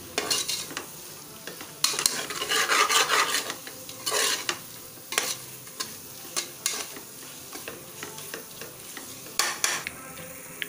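Biryani masala and chili powder fry in a pan for egg biryani, with repeated scraping stirs and bursts of sizzling, the utensil strokes coming in irregular clusters close to the listener.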